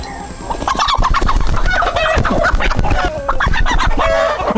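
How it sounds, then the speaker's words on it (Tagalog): Free-range hens and roosters, a flock of about 35 hens and 15 roosters, cluck busily and close by, with overlapping calls and a rooster's crow rising through the clamour. "35 hens and 15 Rooster."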